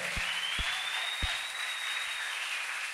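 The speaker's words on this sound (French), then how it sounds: "Est-ce qu'on peut acclamer très fort pour la gloire du Seigneur?" Applause from a church congregation, a broad, steady wash of clapping that carries from start to finish, with a few louder thumps at the beginning.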